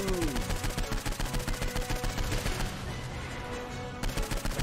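Rapid gunfire from the video game Saints Row IV comes as a dense, rhythmic string of loud shots. It keeps going for several seconds with only a short gap near the end.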